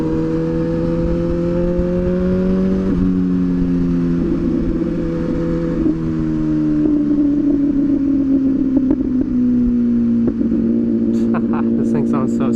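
An MV Agusta SV 1000 Oro motorcycle engine heard while riding, a loud, close, steady drone that climbs in pitch through successive gear pulls with brief dips between shifts, plus wind rush and faint clicks near the end.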